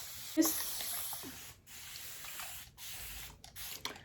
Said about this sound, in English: So just spray some water on it.